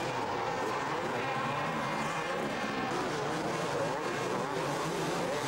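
Several 250cc motocross bikes, a Suzuki among them, race on a muddy British track in 1988. Their engines make a continuous, loud, close roar with overlapping revs throughout the clip.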